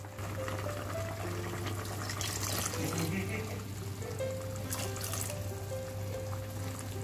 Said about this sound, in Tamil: இப்போ தேங்காய் பால் ஆட் பண்ணி நல்லா மிக்ஸ் பண்ணி விட்டுக்கோங்க.